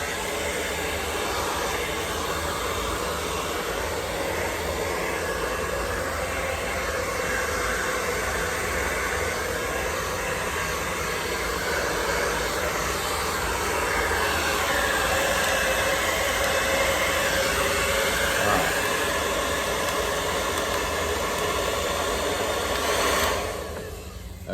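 Continuous airy blower rushing steadily for a long stretch, pushing acrylic paint across a canvas in a Dutch pour, close and even in loudness before cutting off abruptly near the end.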